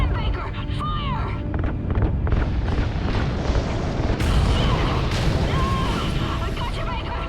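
Explosive booms and bursts in the Call of Duty Ghosts video game as rocket RCS thrusters ignite, a dense continuous roar of blasts and rumble with game voices talking over it.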